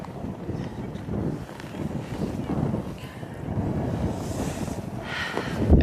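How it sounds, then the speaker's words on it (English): Strong wind in the Arctic buffets the microphone with a steady low roar that swells and gusts, rising loudest near the end. "It was too windy"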